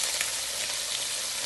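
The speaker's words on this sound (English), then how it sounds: "You want this to fry up because we're frying the cabbage." Shredded cabbage and seasoning fry in a hot pan for a Guyanese-style fried fish and cabbage dish, giving a steady, close, loud sizzle that holds evenly throughout with no talking.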